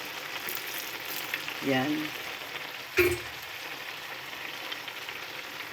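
Pork heart and pork belly bubble and sizzle in a pan, a soft continuous crackle throughout with a brief stir-like knock and a single short spoken word.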